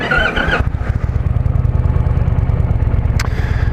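A 2020 Indian Challenger motorcycle engine idles and chugs steadily up close, its low rhythmic pulsing running throughout, with a short burst of sound at the very start.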